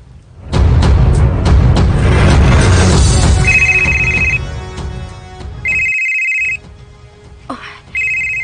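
A telephone ringtone sounds in three short, clear electronic bursts after a loud, rumbling stretch of low noise, with quiet gaps between the rings.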